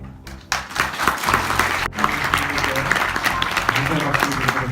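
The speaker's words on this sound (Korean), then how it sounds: "감사의 박수를 드리도록 하겠습니다" An audience at a public debate on legislation for alternative education claps together. The dense, steady applause starts abruptly and carries on at full strength, with a brief dip near the two-second mark.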